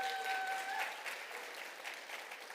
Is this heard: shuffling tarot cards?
no